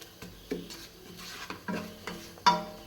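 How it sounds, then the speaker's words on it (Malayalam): Cooked chickpeas are stirred in a pan with a spoon in steady, repeated scrapes about every half second. A faint sizzle sits underneath, and a brighter clink near the end marks the spoon striking the pan. "ഇനി നമുക്ക് ആ കടല അങ്ങിട്ട് കൊടുക്കാം"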